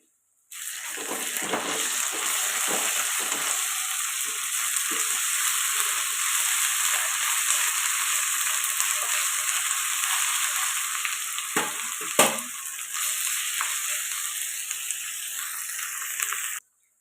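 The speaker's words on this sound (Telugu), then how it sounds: "ఇప్పుడు ఒక పెద్ద స్పూను అల్లం వెల్లుల్లి పేస్ట్ అయితే తీసుకుంటున్నాను ఇప్పుడు ఇది కూడా పచ్చివాసన పోయేదాకా ఫ్రై చేసుకున్నాను" Ginger garlic paste frying with onions in a pan for chicken biryani makes a loud, continuous broadband sizzle. A few clinks and scrapes of a spoon come early and a sharp knock follows midway, with no talking.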